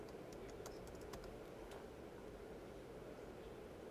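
Quiet, steady tapping on a computer keyboard as a student's surname is typed into a search field, the keystrokes soft and close over a faint background hiss.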